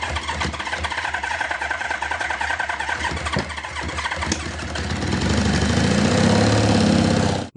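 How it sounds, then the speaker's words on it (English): An old barn-find Honda motorcycle engine cranks on its electric starter with a rough, chattering churn, then catches and runs into a steadier, louder rumble toward the end, heard alone without talk. "Check out this clip of Classic Octane starting up an old barn find Honda"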